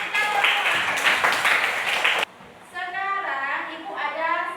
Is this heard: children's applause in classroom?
yes